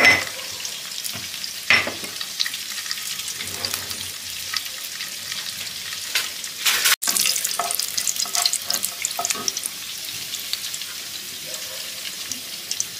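Whole cinnamon, cloves and bay leaf crackle and sizzle steadily in hot oil, with occasional stirring scrapes and a few sharp clinks, close and continuous throughout.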